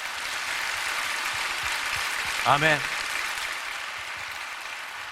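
A church congregation applauds during a worship service, a dense, even wash of clapping that fills the room throughout, with one short spoken word rising briefly above it.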